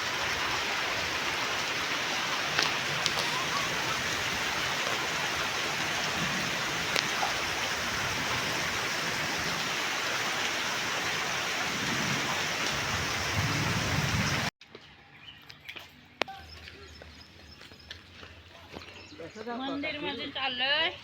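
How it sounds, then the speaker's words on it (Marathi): Heavy first rain of the season pours down over a village, a steady dense roar for most of the clip that cuts abruptly to quieter ambience near the end, with possible distant thunder and voices faintly underneath. "गावाकडील पहिला पाऊस"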